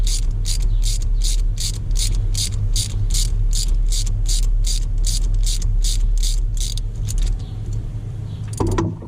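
A ratchet wrench loosens a bolt on a Dodge Ram 2500 with a 5.9L 24-valve Cummins during an intake horn install, clicking in a fast, steady run of close, even strokes before stopping with a brief clunk at the end.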